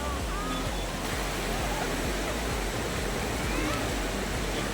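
Sea waves on a Konkan beach make a constant, loud roaring wash of surf with no pauses, close by and unbroken.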